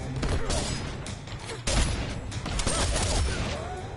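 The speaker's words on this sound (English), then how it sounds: "Oh, my gunshot sucks." A gunshot attack fires in the fighting game Mortal Kombat XL. Sharp bursts cut through dense, loud game music and effects, with one stronger hit near the middle.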